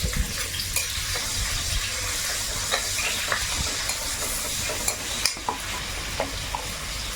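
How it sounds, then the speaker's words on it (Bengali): Chopped onion and garlic fry in a little oil in a kadai for a fish curry, giving a steady close sizzle broken by light clicks and scrapes of stirring, with no one talking. "কড়াইতে অল্প একটু তেল দিলাম এখন মাছের তরকারিটা আগে করব তেলের মধ্যে এখন পেঁয়াজ আর রসুন কুচি দেবো"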